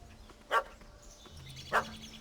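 Two yips from a puppy in The Witcher 3 game world, spaced over a second apart and standing out over faint ambient game sound.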